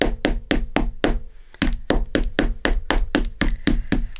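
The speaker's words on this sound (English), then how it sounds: "try and hammer this down a little bit." A hammer strikes eyelets on a journal cover in a steady run of about fifteen sharp, close knocks, evenly spaced with a brief pause near the middle.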